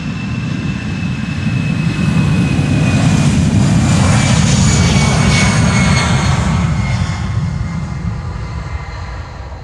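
An EasyJet Airbus A319 bound for Bristol roars down Polderbaan runway 36L at Amsterdam Schiphol, its jet engines building to a loud, sustained broadband thunder on takeoff that slowly eases as it climbs away.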